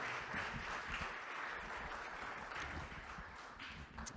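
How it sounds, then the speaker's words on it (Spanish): Church congregation applauding steadily, a faint, distant wash of many hands clapping continuously for a few seconds. "le damos un aplauso a nuestras hermanas"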